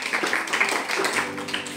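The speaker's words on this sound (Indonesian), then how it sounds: "tepuk tangan dulu dong buat Alifah" Audience in a Jakarta high school session applauds a student, a steady wash of mixed clapping filling the short stretch at moderate volume with faint speech-like sounds mixed in.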